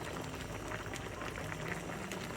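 Water at a steady boil in a pan of turkey being cooked before frying, a soft continuous bubbling hiss, close and fairly quiet with no voices.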